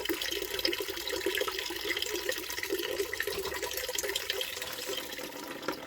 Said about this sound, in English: But first we have to let it drain out.